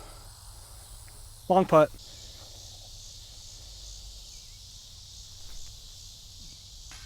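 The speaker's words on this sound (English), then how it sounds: "The amount of freaking cicadas is insane" Cicadas on a disc golf course keep up a loud, steady high-pitched drone throughout, with a brief spoken phrase near the start.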